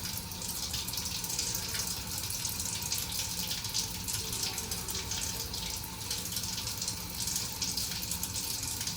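Tap water runs steadily over fresh coriander leaves in a kitchen sink, a continuous close hiss and splash with no pauses and no speech.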